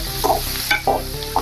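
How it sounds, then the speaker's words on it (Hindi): Onions frying and sizzling in a pan for an aloo do pyaza dish, with several short scraping stirs of a utensil over a steady sizzle, close and clear. "अभी इसको हम थोड़ा सा नरम करेंगे प्याज को।"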